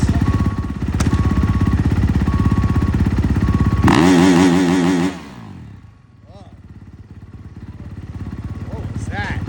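A Honda supercross motorcycle revs hard at a stadium sound test, with a loud rapid engine roar that spikes sharply, then cuts to a lower idle. Voices talk over part of it.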